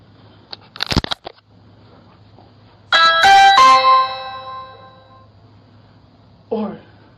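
A house doorbell rings out on a porch as a ding-dong chime, loud and close, with a crunch of movement before it and a brief voice near the end.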